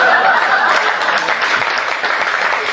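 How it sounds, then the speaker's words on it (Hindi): Loud, dense applause from an audience at a poetry recitation at Bharati Vidyapeeth, Paschim Vihar, a sustained crackle of many hands clapping together with a hint of laughter mixed in. "जोरदार तालियां।"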